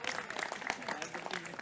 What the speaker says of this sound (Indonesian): Tepuk tangan buat Wonosalam itu.